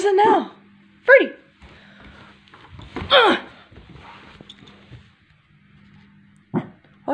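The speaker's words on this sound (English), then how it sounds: "Why are you barking?" A dog barks at something outside in a few short, sharp bursts spread across the moment, with a person talking in between.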